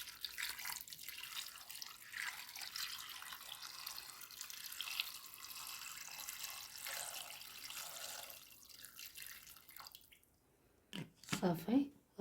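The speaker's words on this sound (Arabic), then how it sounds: "غنزيد له الماء. بسم الله. الماء كافي فين يتسلق." Water is poured from a container into a cooking pot of carrots before the pot goes on to cook. A soft, continuous trickling pour lasts about ten seconds, then gives way to a few louder thumps and clatters close by.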